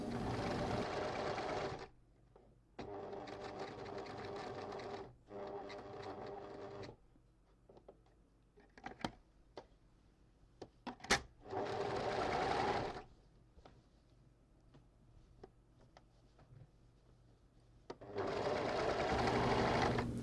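A sewing machine stitches a Christmas dress with puff sleeves in several bursts, running for a few seconds, pausing with faint handling noises, then starting again, close up with no talk.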